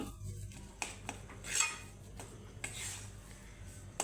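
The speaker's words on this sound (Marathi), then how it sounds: "आपण इथे हा मैदा छान असा व्यवस्थित असा भाजला जात आहे" Maida flour dry-roasting in a pan for a Diwali daraba sweet, with soft scraping and light metallic clinks of a spatula against the pan at an uneven pace, close and quiet.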